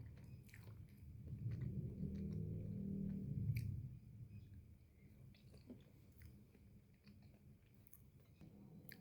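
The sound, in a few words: chewing satay with shallots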